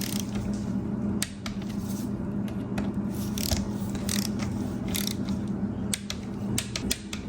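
A ratchet torque wrench tightening cylinder head bolts on an Audi 3.2 engine gives repeated clicking and ratcheting over a constant hum, close and steady throughout with no speech.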